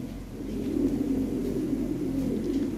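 Low, soft cooing of imported European pigeons close by, a steady murmuring coo that continues without pause.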